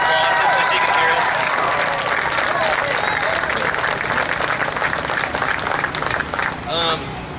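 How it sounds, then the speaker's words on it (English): Loud crowd applause at a political rally, dense clapping mixed with cheers and whoops that runs the whole stretch and thins slightly near the end. "Give Sarah Palin a round of applause"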